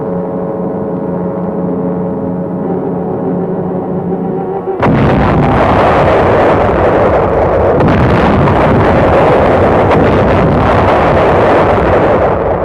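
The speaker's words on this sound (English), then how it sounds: "Guns of the 262-ship United Nations Armada began their point-blank preliminary bombardment." Warships of a large United Nations fleet pound Wolmi island at Inchon, Korea, in 1950. A steady droning tone gives way abruptly to a loud, continuous roar of gunfire and explosions that rumbles on to the end.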